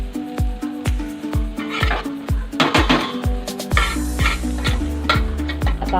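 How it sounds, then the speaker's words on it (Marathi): Rice fries with vegetables in a small pot for veg pulao, a quick run of ringing metallic clanks from a spoon striking the pot repeating over a light sizzle. "तांदूळ आपण भाज्यांच्या बरोबर फ्राय करायचे टाकलेले आहेत. आता बघा किती छान फ्राय झालेत"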